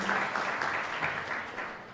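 Brief burst of audience clapping for award winners at a Kashubian recitation contest in Chmielno, a short, lively patter of many hands at moderate volume with no speech.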